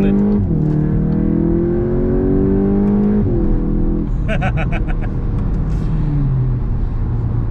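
A 2021 VW MK8 Golf GTI Clubsport engine pulls on the road, a steady rising drone climbing through the revs, dropping briefly at a shift, then building again under road and tyre noise.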